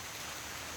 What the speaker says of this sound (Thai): พี่น้องฝนตกครับวันนี้ครับ